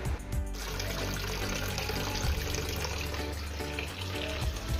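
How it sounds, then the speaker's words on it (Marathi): Tap water runs steadily into a container as drinking water is stored at home, a close, continuous rushing splash with no talking. "आमच्या इथं आलेलं आहे पाणी. आणि हा पिण्याचं पाणी आहे. तर तो मी इथे स्टोअर करून ठेवतो आहे."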